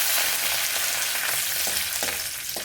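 Curry leaves, urad dal and dried red chillies frying in hot oil, a dense steady hiss and crackle with occasional soft spatters, close and alone with no voices.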